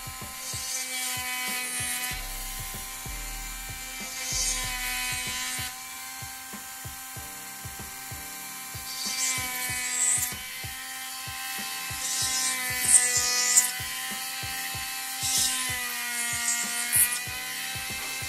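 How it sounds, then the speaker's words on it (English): A small drill whines at a high pitch while boring 1mm holes along wooden boards of an Endeavour model ship. The motor steadily spins up and down in repeated short runs, close and clear. "I need to drill a 1mm hole along the boards."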